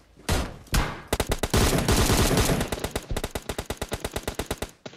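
Gunfire in a multiplayer shooter video game: a couple of single shots followed by long bursts of rapid automatic fire, loud and close, with pauses between strings of shots.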